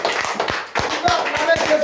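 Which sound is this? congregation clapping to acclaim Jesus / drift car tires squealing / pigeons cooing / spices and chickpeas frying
congregation clapping to acclaim Jesus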